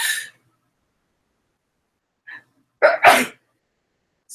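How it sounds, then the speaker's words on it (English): One close, sharp sneeze with a quick inhale and a two-part burst during an online Stampin' Up! card-making party, otherwise quiet around it. "I'm going to sneeze here just a second"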